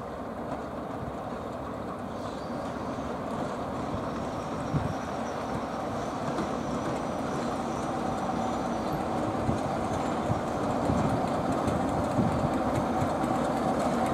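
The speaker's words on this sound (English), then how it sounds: "The 1705 now arrives with its train bound for Rothley" A train arriving on the Great Central heritage railway, bound for Rothley, makes a steady low rumble of engine and rolling wheels with faint clatter, moderately loud and continuous.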